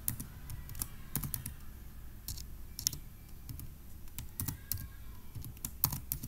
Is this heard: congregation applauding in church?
no